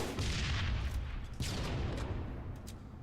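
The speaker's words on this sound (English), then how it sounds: "I'll try to give you cover fire." Gunfire from the video game Halo booms in a close, loud, continuous barrage of rapid shots and blasts that carries on throughout.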